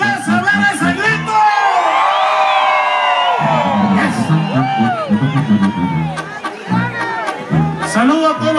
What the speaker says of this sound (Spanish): A ver el grito de los hombres que mandan en su casa, a ver ese grito.